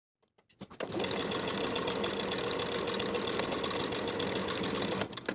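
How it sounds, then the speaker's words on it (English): Sewing machine edge stitching a pocket lining close to a fold, running in one continuous fast whirring burst for several seconds after a few quick starting taps, loud and alone. "Sew the pinned edge from top to bottom, edge stitching close to the fold."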